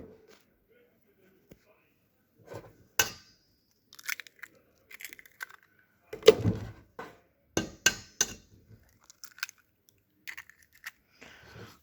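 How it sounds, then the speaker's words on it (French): Eggs are cracked into the centre of a flour well for crêpe batter, giving close, sharp cracks and taps in scattered bursts against near silence. "Alors on vient mettre dans ce centre les œufs."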